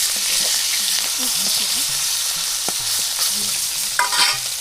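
Fish being fried in a pan over a clay stove, a loud, continuous hissing sizzle with faint background voices and a brief clink of utensils toward the end.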